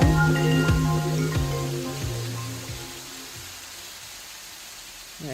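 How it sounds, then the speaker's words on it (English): A rain sound effect fires as a theatre cue and fills the space with steady hiss. A low musical tone with repeated chiming strikes fades under it, leaving the rain rushing alone. "The rain is now coming in."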